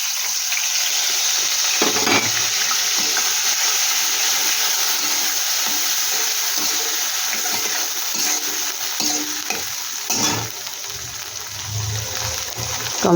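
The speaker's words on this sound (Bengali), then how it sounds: "এই দেখো, এখানে আদা আর লঙ্কা বাটা আর টমেটো এটা আমি একসাথেই দিয়ে দিচ্ছি" Ginger, chili paste and tomato frying together in a pan, a continuous close sizzling hiss with occasional scraping stirs and soft knocks, no voices.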